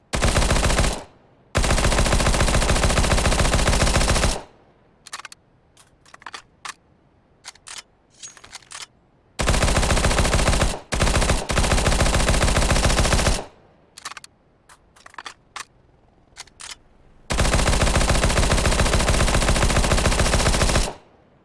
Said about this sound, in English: Probably the most, or the biggest gun sound that they've changed is definitely the P90,